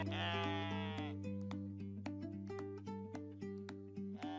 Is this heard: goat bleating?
yes